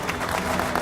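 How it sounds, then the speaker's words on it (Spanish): A crowd at a public event applauding, a dense continuous wash of many hands clapping, loud and sustained for a brief moment. "Les voy a pedir el más fuerte aplauso que ustedes hayan brindado a alguien."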